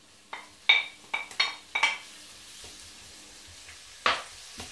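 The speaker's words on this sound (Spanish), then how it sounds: "Lo dejamos rehogando." Food sizzles in a hot pan as it's stirred, with several sharp clinks and scrapes of a utensil against the pan.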